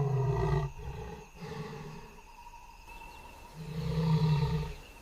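A lion roars in the wild, a loud, deep, drawn-out call broken into several heavy pulses that swell again toward the end, with no voices over it.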